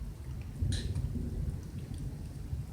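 Thunder rumbling in a thunderstorm with steady rain, a low continuous roll under the hiss of falling rain, with no voices.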